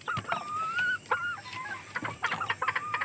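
Several fighting-breed chickens cluck and squawk nearby in short, irregular bursts, with a thin high-pitched call rising among them.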